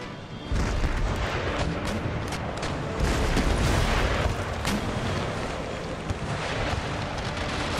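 Naval cannon broadsides roar in Empire Total War, a dense, continuous rumble of booming fire and blasts that stays loud and sustained throughout.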